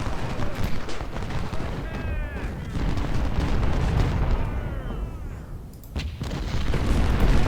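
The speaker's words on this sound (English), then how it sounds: "Over here our artillery is now opening up as well" Artillery firing in the Civil War strategy game Ultimate General at the Battle of Shiloh: repeated heavy booms and rumbling cannon fire roll in, overlapping into a dense, loud barrage.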